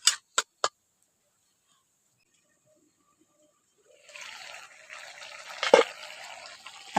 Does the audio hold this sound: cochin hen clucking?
no